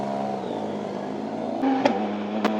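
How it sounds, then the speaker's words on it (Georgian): Close, steady drone of a Yamaha MT-09 three-cylinder motorcycle engine that lifts into a louder rev near the end, with two short sharp pops, and nobody talking. "3 ცილინდრიანი ძრავების ხმა შემიყვარდა,"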